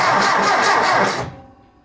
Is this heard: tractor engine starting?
yes